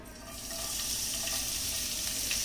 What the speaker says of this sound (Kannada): ಎಣ್ಣೆ ಬಿಸಿಯಾಗಿದೆ. ಈಗ ಸಣ್ಣಗೆ ಹೆಚ್ಚಿದಂಥ ಬೆಳ್ಳುಳ್ಳಿ ಹಾಕೋಣ.